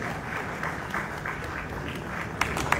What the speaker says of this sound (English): Please, a round of applause for the annoying village boy